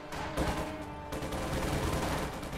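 Dense bursts of rifle and machine-gun fire, Panzer Grenadiers against Soviet combat engineer conscripts in a World War II strategy game, crackle continuously and loudly throughout, layered and overlapping, with no talking.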